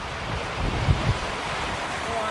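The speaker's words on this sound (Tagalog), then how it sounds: "Hinampas din ng malakas na hangin ang pagudpod." Strong typhoon wind from a storm making landfall in a coastal Philippine province, roaring as a steady broadband rush with a couple of brief heavier gusts buffeting the microphone.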